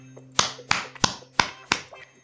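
Five sharp hand claps in an uneven rhythm, close and fairly loud, with no talking.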